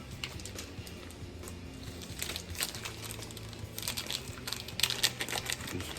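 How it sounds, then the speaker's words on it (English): Thin plastic cheese packaging crinkles and crackles as sliced cheese is worked loose, a steady close rustle with sharper bursts toward the end. "Just get it loose from the packaging."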